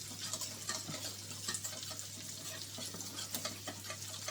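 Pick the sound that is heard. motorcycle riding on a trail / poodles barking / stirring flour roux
stirring flour roux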